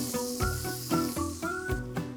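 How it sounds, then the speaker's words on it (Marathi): Finely chopped onions sauté in hot oil with asafoetida, giving a soft, steady sizzle close by, broken by a few rhythmic stirring strokes about every half second. "2 बारीक चिरलेले कांदे. कांदे छान परतून घ्यायचे."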